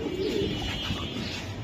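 Racer pigeons give a soft, throaty cooing close by, a short burst of low warbling notes that fades into quieter murmurs.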